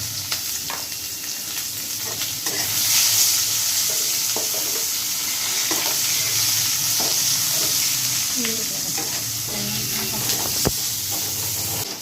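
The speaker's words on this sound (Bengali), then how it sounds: "এই যে পেঁয়াজটা লাল লাল করে ভাজা হয়ে গেছে" Steady sizzling of onions frying in hot oil with black cumin fills the clip, with occasional stirring and faint scraping, and no clear talk.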